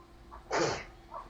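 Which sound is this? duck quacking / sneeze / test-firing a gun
sneeze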